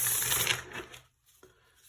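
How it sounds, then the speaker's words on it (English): Tarot cards riffle-shuffled by hand: a dense, crisp burst of card flutter for about a second, then near silence broken by a single soft tap of the deck. "I feel like the cards need an extra good shuffle, so I'm going to give them that."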